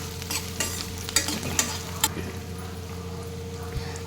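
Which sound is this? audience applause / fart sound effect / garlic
garlic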